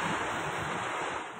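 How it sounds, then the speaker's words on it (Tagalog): Strong typhoon wind roars steadily into the microphone at a port, with a rushing, rain-like wash of noise from heavy rain, loud and continuous, with no voices. "Kita rin mula sa pantalan ang malakas na bugso ng hangin at ulan"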